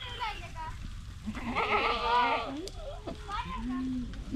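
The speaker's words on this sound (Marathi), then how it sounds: "शेळ्या ज्या आहेत त्या आता रानामध्ये चरायला निघालेल्या आहेत" Several goats, a herd heading out to graze in open fields, bleat close by in wavering, nasal calls, with a few shorter bleats following, over a low outdoor rumble.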